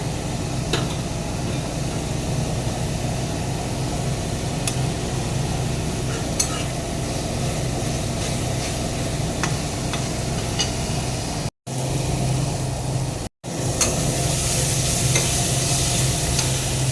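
Masala spice paste stirred and fried in a pan for masala fish, a continuous close sizzle with steady scraping from the stirring, broken by two brief dropouts near the end, no talk.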